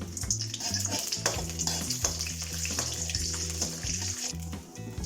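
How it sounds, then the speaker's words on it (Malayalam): Cashews, raisins, cinnamon and cloves fry in hot ghee for a biryani, a steady close sizzle with spoon scraping and stirring clinks over a low background hum. "അണ്ടിപ്പരിപ്പ്, മുന്തിരിങ്ങ, പട്ട, ഗ്രാമ്പൂ ഒക്കെ ഒന്ന് വറുത്തെടുക്കാം."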